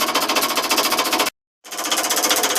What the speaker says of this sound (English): I'll turn the compressor on.